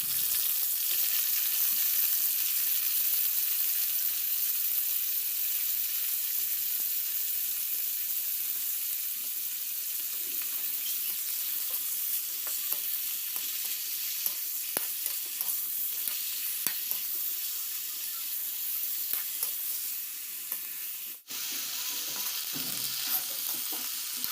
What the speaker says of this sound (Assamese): পিঁয়াজখিনি ভাজি উৰহীখিনিও তেলত ভাজি ল'ম।